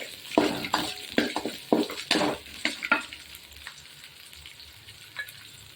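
Small shallots and garlic sautéing in a pan for tomato sambar, with a burst of brisk scraping stir strokes over a sizzle that then settles to quieter frying.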